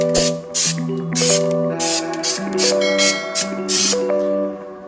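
Rustoleum undercoating is sprayed from an aerosol can onto a Chevy Suburban in a series of short, sharp hissing bursts. The rhythm is repeated and evenly spaced, set against a steady tonal background.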